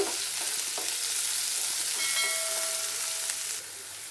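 Chopped large onions frying in a pan for spicy street-style macaroni, a steady close sizzle and hiss throughout with no talking, easing slightly near the end.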